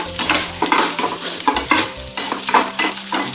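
Onions and fenugreek frying in a pan for Thalassery-style spinach pulissery, a loud continuous sizzle broken by repeated scraping stirs, close up with no talking.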